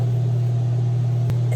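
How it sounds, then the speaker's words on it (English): An air fryer running with a flour mixture inside, a steady loud low hum with a faint whir above it and one brief click near the end. "Our flour mixture is currently inside of the air fryer."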